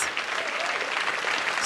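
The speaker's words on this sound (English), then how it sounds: "London, can we have a big round of rousing applause" Applause from a large audience at a women's event in a London riverside studio, steady dense clapping throughout, loud and close, with a faint cheer rising partway through.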